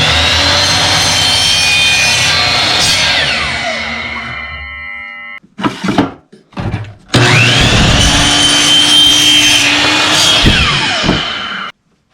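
PVC tubing being cut with a power saw, a loud sustained whining cut, a short pause with handling clatter, then a second long cut before stopping abruptly.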